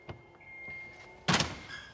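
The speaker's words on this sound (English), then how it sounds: "So these doors, panic escape hardware, we open 1 panel, 2 panels." Vertical sliding acoustic door panels with panic escape hardware are pushed open: a few soft knocks, then one loud, close clunk as a panel moves, with a faint hum in the background.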